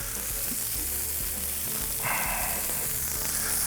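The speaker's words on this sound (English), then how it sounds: "That sizzle means you're doing it right." Steady, close sizzling of smash burger patties frying on a hot griddle, a constant crackling hiss that grows slightly brighter partway through.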